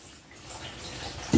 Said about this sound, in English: this is bathroom water from the bathroom sink